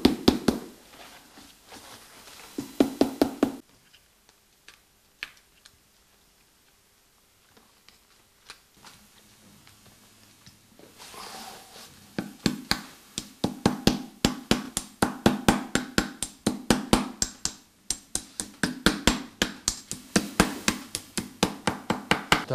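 Hammer strikes on a red framed Kalotaszeg embroidered leather boot sitting on a shoe last, flattening the stiffened parts. A few taps open the clip, then a quiet stretch, then dense, rapid, loud blows come in a steady rhythm close by.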